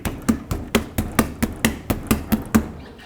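A rubber mallet strikes the back of a stuck wheel on a 1997-2003 Ford F-150 about a dozen times. The blows are loud, close and evenly paced, with dull thuds and no talking.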